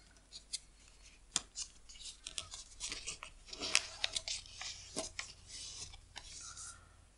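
Paper is creased and folded by hand into a paper airplane, a double-rudder glider, giving soft crinkles and sharp crisp snaps at irregular intervals. Quiet and close, with no voices.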